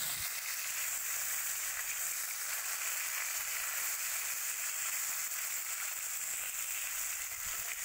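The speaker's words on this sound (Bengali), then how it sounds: "মাছ ভাজার জন্য পরিমাণ মতো তেল দিয়ে তারপরে নুন হলুদ মাখানো মাছগুলো দিয়ে দিলাম।" Turmeric-and-salt coated fish frying in oil in a wok, giving a steady, even hiss that carries on without pause throughout, fairly quiet and with no talking.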